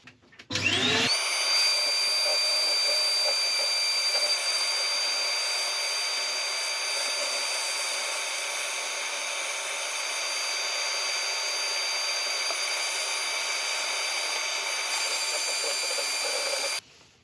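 Steady whirring hum of a lathe spinning a turned wooden piece while it is sanded, one continuous loud run starting abruptly and stopping near the end, with a bright high whine throughout.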